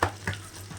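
Ginger garlic paste and curry leaves sauté in a pan for a chicken spleen and liver fry, giving a brief, soft sizzle with a couple of quick stirring scrapes.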